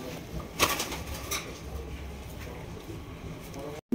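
Fancy pigeons kept for sale, racer, giribaz, lotan and tumbler breeds, coo softly with a brief flutter of wings, close and quiet under steady background noise, cutting off abruptly near the end.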